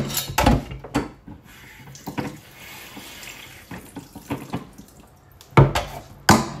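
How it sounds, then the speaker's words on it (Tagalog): Water splashes and runs into a pan of chicken adobo with oyster sauce nearby, broken up by clanking knocks of metal, loud at the start and end. "Tapos lagyan natin konting tubig."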